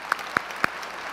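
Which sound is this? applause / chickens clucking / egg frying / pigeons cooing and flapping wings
applause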